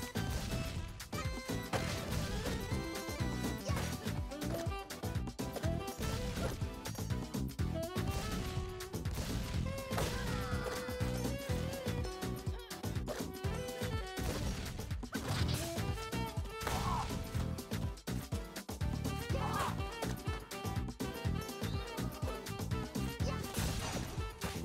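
Grenade combo attacks in Streets of Rage 4 land as a dense, nonstop run of smashes, whacks and blasts, thick and steady throughout and mixed over busy game music.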